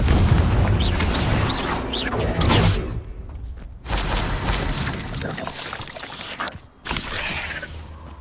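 Confringo fire spell explosions in Hogwarts Legacy, loud booming blasts in several bursts separated by short gaps, with game voices heard among them.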